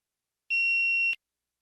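A single clean electronic test beep signalling the start of response preparation, a steady pure tone lasting just over half a second, alone in silence.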